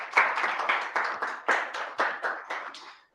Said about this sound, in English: Let's give Mert a round of applause.